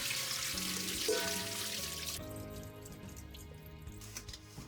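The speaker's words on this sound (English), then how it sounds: "And I drain a sieve." Water drains through a sieve from freshly washed shiso leaves, a close trickling and spattering that is loudest at first, then thins to light drips and patters.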